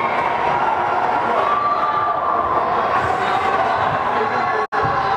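A crowd at a tied high school game on senior night gives off a steady, broad roar of cheering and general noise that holds at an even level, with one brief drop near the end.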